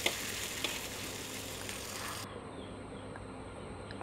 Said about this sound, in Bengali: এই যে চিংড়ি মাছটা ভাজি এক পাট হয়ে গেছে